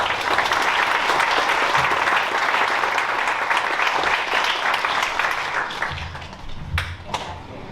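Audience applause for honor recipients at a high school graduation night, loud sustained clapping from a crowd that thins out toward the end, leaving a few scattered claps.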